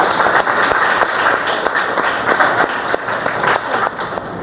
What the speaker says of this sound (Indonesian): Beri tepuk tangan untuk kelompok A.